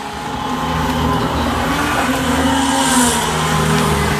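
Race cars in the Glendale 65 video game roar off the starting line together, a loud sustained engine drone rising in pitch over several seconds, no voices.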